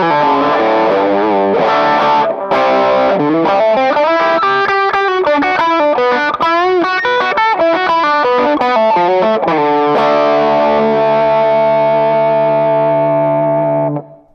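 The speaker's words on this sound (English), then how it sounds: "if I juice it with the Cocoa Boost" Electric guitar played through a Cocoa Boost overdrive pedal on a pedalboard, driven and sustained tone with a run of quick melodic notes, then a held chord ringing out and cutting off at the end.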